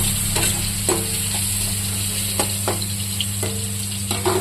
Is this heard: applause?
no